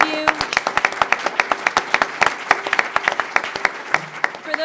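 A small audience at a community foundation speakers series claps in a loose, fairly sparse rhythm. The individual claps stay distinct and close, with a few voices murmuring faintly underneath.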